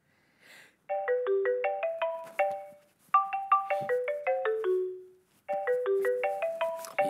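A phone ringtone sounds as a theatrical effect in a live stage comedy show: three loud, close bursts of a rapid descending-then-rising melodic chime, separated by short pauses, with no voices.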